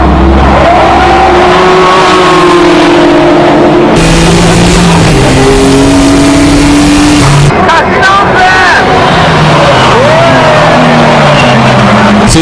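Race cars roar hard under acceleration as a Nismo GT-R is overtaken, engines loud and continuous with rising and falling pitch sweeps, shifts and a passing whoosh, partly overlaid by commentary.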